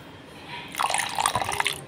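About two spoonfuls of water pour and splash into besan batter for masala bhindi, a brief close liquid trickle with dripping after a quiet start.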